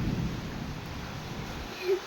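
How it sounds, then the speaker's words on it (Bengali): Afternoon thunderstorm with rain, a low rumble of thunder and steady rain wash that fade slightly, with a brief faint tonal sound near the end and no speech. "দেখতেই পাচ্ছেন কি পরিমাণে ঝড় হচ্ছে।"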